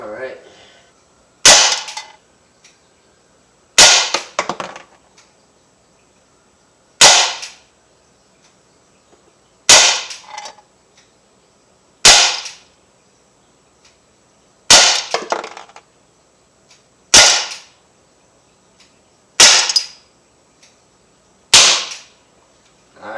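Umarex SA-10 .177 caliber air pistol fired into a pellet trap: nine sharp, loud cracks spaced about every two to three seconds, each with a brief clattering impact, with near silence between shots.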